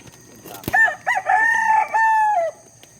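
A fighting rooster crows once at a gamecock sale, loud and close, a long drawn-out call preceded by a sharp click, with quiet background otherwise.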